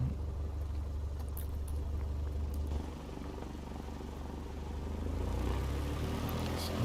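A simulated Piper PA-28-161 Warrior II piston engine in a flight simulator game drones steadily at a low, moderate level, dipping slightly midway before swelling back up, with no talking over it.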